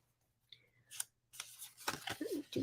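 Scissors snipping through paper or card, a few quick close cuts with short pauses between, quiet and alone with no talking.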